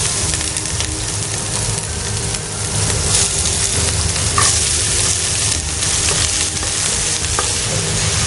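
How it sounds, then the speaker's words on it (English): Onions sizzle steadily in hot oil with star anise, bay leaves and cinnamon stick, a loud continuous frying hiss with occasional stirring scrapes, close up and without talk. "Saute this really well until the onions are nice golden brown"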